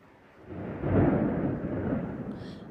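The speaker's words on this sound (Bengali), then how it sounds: "আমাদের এখানে মেঘ ডাকছে প্রচণ্ডভাবে" Heavy thunder ahead of rain rolls in as a deep, swelling rumble that builds after half a second, peaks around one second and slowly fades while still grumbling, with a faint higher noise near the end; no talking.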